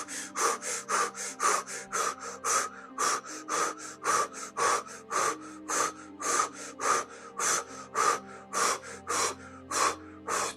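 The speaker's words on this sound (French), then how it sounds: "On recommence les exercices de respiration." Deep breathing exercises during a hypnosis session for quitting smoking, a regular series of about twenty loud, close breaths in a steady rhythm, with no speech.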